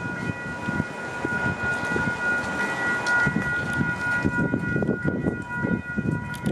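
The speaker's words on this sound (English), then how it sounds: "it looks like a train about to pull up." An approaching train rumbles steadily in the open, with a sustained horn-like tone and rattling wheels growing louder, no voices over it.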